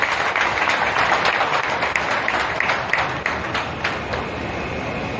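An outdoor crowd at an event in Delhi, where the Chief Minister flagged off new DTC buses, gives sustained applause, a dense steady clapping that gradually fades over several seconds.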